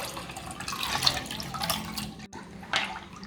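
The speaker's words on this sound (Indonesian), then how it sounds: "ini air gulanya kita tuang sedikit-sedikit" Sugar syrup is poured little by little into a fruit cocktail mixed with basil seeds, giving a close, soft, uneven trickling and splashing of liquid that continues for several seconds without speech.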